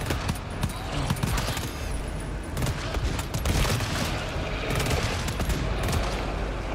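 Automated turrets in GTFO fire nonstop, a loud, dense rattle of rapid shots with booming impacts running through the whole stretch, while a voice speaks now and then over the din.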